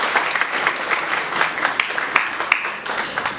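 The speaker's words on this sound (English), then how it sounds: "Can we please have a huge round of applause for her?" A school law-orientation audience gives a guest a sustained round of applause, dense clapping filling the hall at an even level from start to finish.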